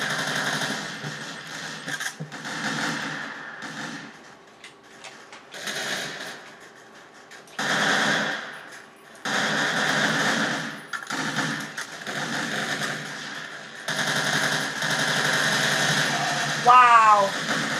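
Game gunfire in the CrossFire shooter rattles in repeated bursts and sustained volleys, with a quick series of rising chirps near the end, mixed under excited talk from a player.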